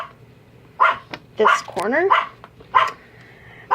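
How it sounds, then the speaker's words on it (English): Lily Bell, a pet dog who has been unwell, barks in a few short bursts indoors while someone talks nearby. "that's my Lily Bell barking"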